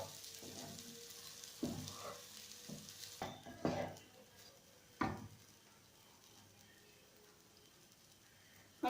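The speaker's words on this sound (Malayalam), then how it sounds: "ഇനി ഇതെല്ലാം കൂടെ നമുക്കൊന്ന് മിക്സ് ചെയ്തെടുക്കാം" Leftover rice and egg being stirred and mixed in a pan, with rhythmic spatula scrapes and knocks against the metal over a light sizzle, settling into a quieter hiss.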